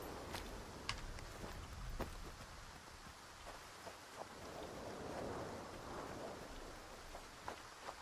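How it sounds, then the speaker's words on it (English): Steady rain falls in the S.T.A.L.K.E.R. 2 game world, with rolling thunder after a lightning strike and scattered sharp cracks and drips over a soft, constant hiss, fairly quiet and with no talk. "Yeah, that was a random ass lightning strike."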